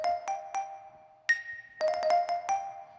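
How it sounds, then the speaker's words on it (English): Bell-like celesta notes from a Sensory Percussion Acedia kit ring out dry with no delay, a sparse run of short, clear struck tones that decay quickly, with a quick cluster of hits near the end. "we're using the Celesta sound from the Acedia kit, which without delay sounds like this"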